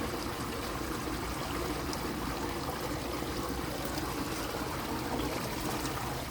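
Waste water drains steadily from the outlet of a tarpaulin fish pond, a continuous close rushing trickle and splash with no pauses and no voices.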